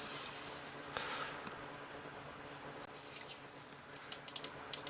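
A Dream Machines gaming mouse in Blizzard White has its buttons clicked: a few crisp, close clicks come in a quick cluster near the end, after a stretch of faint room hiss.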